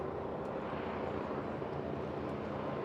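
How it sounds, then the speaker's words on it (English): A Westland first-generation jet-engine Royal Navy helicopter flies at an air show, giving a loud, continuous broadband turbine roar that holds steady without a break. "the first generation jet engine helicopter built for the Royal Navy"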